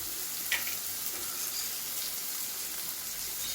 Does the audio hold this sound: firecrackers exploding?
no